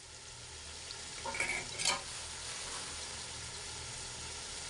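Spices being stirred into vegetable pulao frying in a pan: a steady sizzle with a brief burst of scraping and stirring near the middle, alone with no talk.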